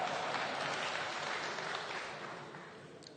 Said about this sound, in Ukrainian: Якісь вибіркові оплески